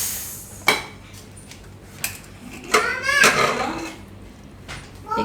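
A metal pressure cooker of ratalu-ringan shaak, a purple yam and eggplant curry cooked for three whistles, is opened in a home kitchen with a few sharp clinks and clatters of the lid and utensils, separated by quiet gaps.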